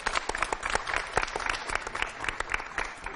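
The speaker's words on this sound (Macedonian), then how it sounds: "Бојана, најсилен аплауз за неја" A school audience at Goce Delchev primary school in Skopje's Centar district gives a lively round of applause, with many close, crisp claps overlapping in an even, sustained burst and no speech over it.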